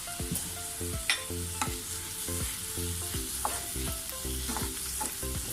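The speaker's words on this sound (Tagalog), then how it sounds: "haluin lang natin" Carrots frying in a pan with crushed pepper and iodized salt are stirred steadily, a spoon scraping in repeated strokes over a constant sizzle, close and fairly loud.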